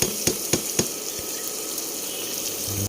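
Spices frying in a pan for a Bengali home-cooked dish give a steady broadband sizzle, with a few sharp stirring taps near the start and a constant hiss throughout.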